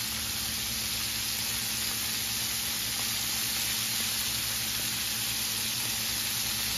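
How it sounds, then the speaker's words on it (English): Chicken wings, floured, frying in hot grease, a loud, steady, dense sizzle and hiss that runs unbroken from start to finish with no talking. "drop them right into your hot grease"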